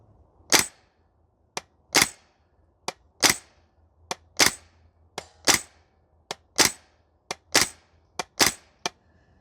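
A Maruyama SCP-9 PDW gas blowback airsoft SMG fired on an outdoor range, roughly fifteen sharp single shots at slow uneven intervals, close and crisp with quiet gaps between.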